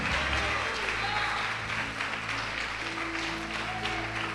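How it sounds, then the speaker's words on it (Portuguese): A church congregation applauds during a worship service with continuous, fairly loud clapping, while a low musical drone and faint voices run underneath. "Você pode aplaudir o Senhor?"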